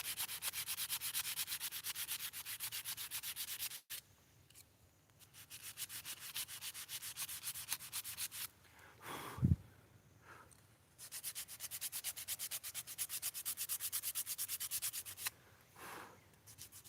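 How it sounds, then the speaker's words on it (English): Rough sanding of a hackberry wood spoon by hand, with steady rapid back-and-forth rubbing strokes in long runs broken by short pauses and a soft bump, close and fairly quiet with no talking. "Okay, rough sanding is over."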